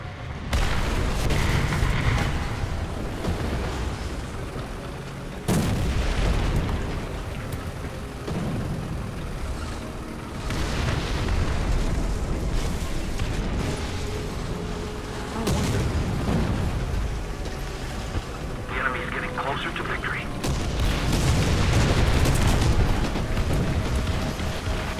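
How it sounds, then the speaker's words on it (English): Artillery explosions in the War Thunder video game, several deep booming blasts spaced irregularly over a rumbling battlefield background, some sharp and near, others duller and more distant. "There's artillery."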